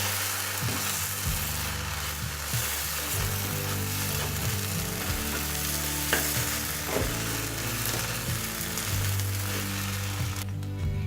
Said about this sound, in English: now it's time to mix this bread with this sauce